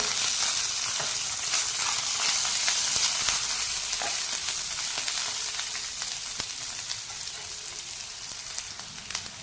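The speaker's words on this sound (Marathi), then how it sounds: "कढीपत्ता हिंग फोडणी झाली आहे आता हा परतलेला फ्लावर आहे कमी मी घालते" Sautéed cauliflower goes into a hot tempering of curry leaves and asafoetida in a pan. A loud, hissing sizzle crackles with sharp pops, then settles slightly over several seconds, with no voices.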